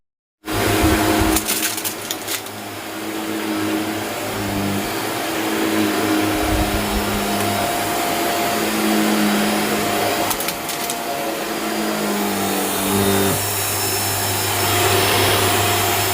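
A new upright vacuum cleaner, a hoover with a brush bar, runs steadily and loudly indoors, a constant whirring drone with slight shifts in pitch as it is pushed across the floor.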